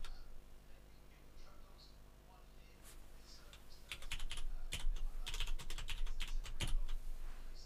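Typing a password on a computer keyboard, with light scattered keystrokes at first, then a faster, denser run of close clicks over a steady low background hum.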